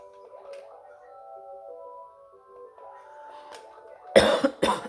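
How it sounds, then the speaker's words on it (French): Two sharp, loud coughs from a person arrive together near the end, following quiet, tonal electronic music from New Super Mario Bros. U Deluxe. "Je tousse un peu en ce moment alors qu'on est en été."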